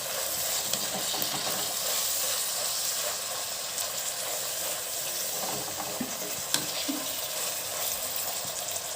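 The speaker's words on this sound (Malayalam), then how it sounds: "ഇതെല്ലാം ചേർത്തിട്ട് നന്നായിട്ടൊന്ന് വഴറ്റിയെടുക്കാം." Green chilli and onion sautéing in a pan, a continuous loud sizzle with occasional stirring scrapes throughout, no voices.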